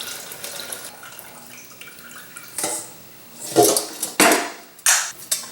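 Homemade mullein tea, sweetened with stevia, poured from a container into another vessel in a kitchen, giving several short bursts of splashing liquid that grow louder toward the end, with no talking.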